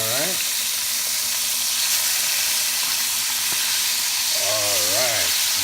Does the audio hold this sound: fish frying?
yes